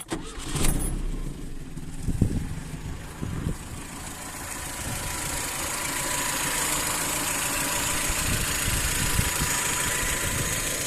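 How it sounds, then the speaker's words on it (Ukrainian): A warm car engine with a tuned Solex carburetor starts from hot at a key turn without throttle, giving a brief cranking catch before settling into a steady, even idle heard close up with no talk. "Показую запуск на гарячу."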